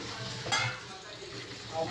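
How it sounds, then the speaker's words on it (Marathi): Water poured into a pan of frying onion with mustard seeds, cumin, coriander powder, turmeric and red chilli powder for khichdi, giving a loud hiss and sizzle that swells briefly near the start, with stirring and faint pot clatter. "पाणी टाकायचं."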